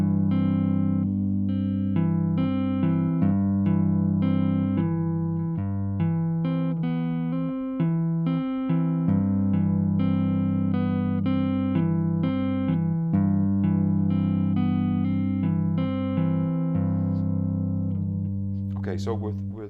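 Touch guitar played loud in a Bach practice passage, a steady stream of sustained low and mid notes with a continuous melodic line running for the whole stretch, strong and close with no talking over it.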